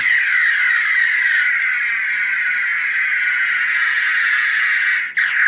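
A continuous high, buzzing electronic tone with a warbling sweep from a Star Trek TNG Type 1 cricket phaser prop replica with its button held down, sounding steadily for several seconds and briefly cutting out near the end.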